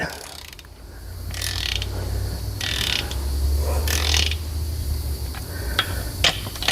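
A ratchet tightens crankshaft bolts on a 305 engine. Several separate clicking bursts come over a low mechanical rumble, close up and fairly loud, with no voice during the clip.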